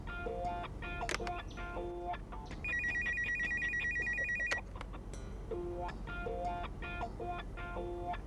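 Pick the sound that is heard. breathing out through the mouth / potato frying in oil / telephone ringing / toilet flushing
telephone ringing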